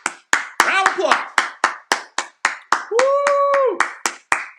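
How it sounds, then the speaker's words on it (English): Sharp, separate hand claps come at a brisk, steady rhythm as a virtual keynote audience gives a round of applause, with a voice calling out and a sustained vocal tone partway through. "big round of applause"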